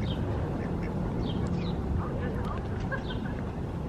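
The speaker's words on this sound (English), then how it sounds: "There's a bunch more ducks too." Ducks at a farm animal sanctuary quack repeatedly in short bursts, several birds nearby, with people talking over the calls.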